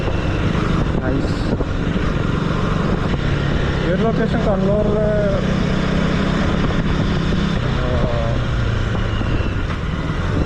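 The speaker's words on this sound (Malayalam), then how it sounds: "നല്ല സൗണ്ടാണ് കേട്ടോ, എൻജിൻ സൗണ്ട്, എക്സോസ്റ്റ് നോട്ടൊക്കെ വളരെ നൈസ്" A KTM Duke 250 motorcycle's engine and exhaust hum steadily while riding, partly buried under heavy wind buffeting on the microphone, with someone talking over it throughout.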